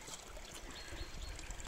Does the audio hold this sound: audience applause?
no